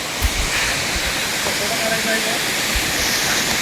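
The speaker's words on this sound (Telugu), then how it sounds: "అక్కడ వాటర్ పడుతుంది" Water tumbles steadily at Palakondalu waterfall near Kadapa, a continuous broad hissing roar that stays even and fairly loud from start to finish.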